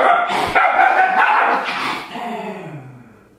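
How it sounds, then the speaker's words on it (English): Dogs bark and yip loudly in a close, chaotic dog fight, with overlapping growls and whimpers that fade toward the end. "And that's a dog fight."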